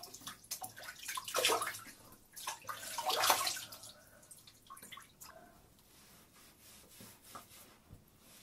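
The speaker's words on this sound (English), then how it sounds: "I kind of wash most of it off with my hands" Face washed by hand with water at a sink during a skincare routine for oily, acne-prone skin, with close, wet splashing and rubbing in several bursts, then quieter drips and dabbing.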